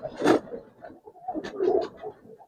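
Giribaz pigeons coo in a loft, soft low rolling calls in a few bursts close by, with faint shuffling and no talk.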